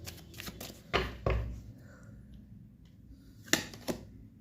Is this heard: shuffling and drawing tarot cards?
yes